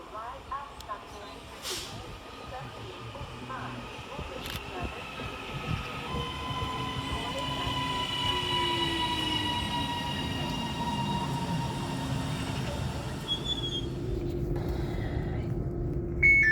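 A three-carriage passenger train unit arrives at a station between Leeds and Doncaster, its rumble and hiss swelling steadily as it draws closer, with a whining mechanical tone over a rising rolling drone and occasional clanks.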